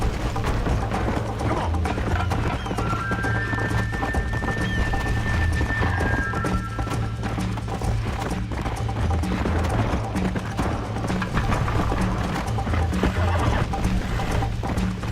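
A horse gallops in Red Dead Redemption with steady, rapid hoofbeat clip-clops and a brief whinny, close and continuous over a low game soundscape.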